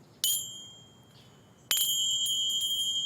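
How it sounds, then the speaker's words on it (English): Teeny tiny cymbals used as a prop in a children's church Bible story: two bright, close metallic strikes about a second and a half apart, each leaving a shimmering, sustained ring, with the second ringing on steadily to the end. "My first prop are teeny tiny cymbals."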